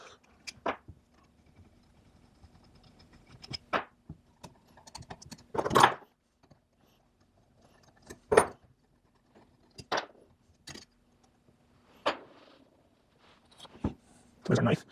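A Makita hand planer's cutterhead assembly is taken off, giving scattered, separate metallic clicks and clunks with quiet gaps between them, several sharper knocks standing out.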